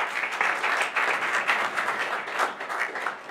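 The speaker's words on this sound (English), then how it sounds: "Please give them a round of applause." Audience applause for the event team at a breakfast tech event, steady dense clapping from a room of people lasting the whole moment, fairly close and even in loudness.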